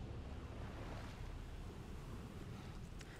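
Surf washing onto a beach in the game Death Stranding, a soft, continuous rush of waves with a breezy hiss, faint and distant, with no voices.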